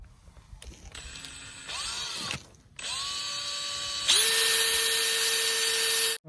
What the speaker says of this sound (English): so I've drilled it out